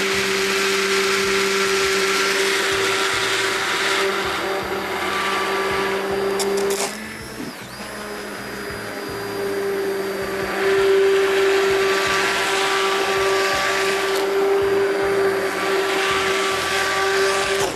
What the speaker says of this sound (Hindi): मुझे अच्छा लगता है तो मैं इसको ग्राइंड कर रहा हूँ और ये 2-3 दफ़ा ग्राइंड होगा।